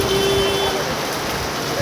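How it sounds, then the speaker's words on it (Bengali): Heavy torrential rain pours down in a steady, dense hiss that stays loud and unbroken throughout, with no gaps or pauses. "মুসল ধরে বৃষ্টি,"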